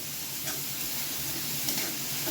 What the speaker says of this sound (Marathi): आणि चांगले परत परतून घेऊया